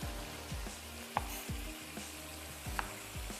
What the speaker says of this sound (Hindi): चलिए इसको चम्मच भी चलाते जाते हैं।